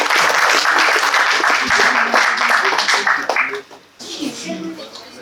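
Crowd applause at a startup idea hackathon swells loud and dense for about three seconds, then thins out as a voice and a few scattered claps follow.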